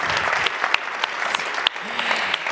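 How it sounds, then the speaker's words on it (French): Theatre audience applauding a performer being introduced on stage, dense steady clapping throughout with a few louder claps and faint voices underneath. "Vous pouvez l'applaudir, Julie."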